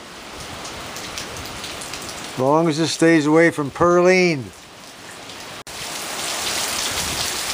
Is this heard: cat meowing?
no